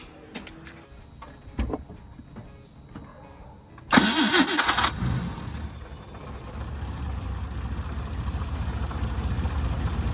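A BMW E30 starting after a starter repair: the starter cranks in a few short bursts, then the engine catches with a loud roar and settles into a steady, rumbling idle.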